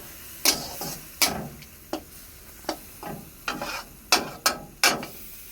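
Spice paste (masala) fries in a pan with a splash of water, a faint sizzle under about eight sharp, close scraping strokes of a spoon stirring at an uneven pace.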